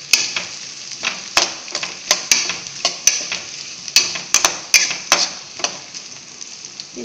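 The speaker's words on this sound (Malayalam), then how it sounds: "അപ്പോൾ ഇതിലേക്ക് ഞാൻ നാളികേരക്കൊത്തും പച്ചമുളകും ഇട്ട് കൊടുത്തിട്ടുണ്ട്. അത് നന്നായി ഫ്രൈ ആകും." Coconut pieces and green chillies frying in oil for an okra fry, a close, steady sizzle punctuated by frequent sharp clicks and scrapes of a spoon stirring in the pan.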